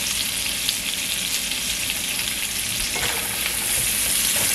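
Onions for homemade Salisbury steak sautéing in a pan, producing a loud, dense, continuous sizzle throughout with faint stirring movements underneath and no voices.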